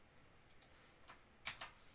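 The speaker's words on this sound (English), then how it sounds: "You guys get to hear me typing." A few soft, scattered clicks of typing on a computer keyboard, faint and irregular against a quiet background.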